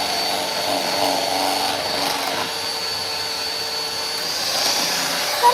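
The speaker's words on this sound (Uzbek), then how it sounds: "mana shu aralashtirib va mikser qilamiz yana" An electric hand mixer whirs steadily through a rich homemade cake batter made with cream and butter, a continuous buzzing motor drone with slight shifts in pitch and no talking.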